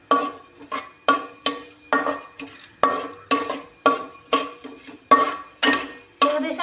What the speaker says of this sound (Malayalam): ആഡ് ചെയ്ത് ഒന്ന് ഇളക്കി കൊടുക്കാം